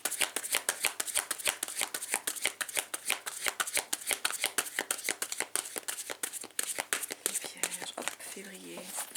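Tarot cards being shuffled by hand in a steady stream of quick, crisp riffling flutters that runs almost the whole length, ending with a brief cut of the deck and a short murmur of voice.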